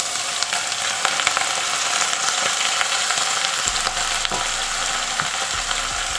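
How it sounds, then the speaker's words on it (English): Eggplant braising in a pan gives a steady, moderately loud frying sizzle with faint scraping and clinking, a constant bubbling hiss across the whole clip with no speech. "it's braising nicely"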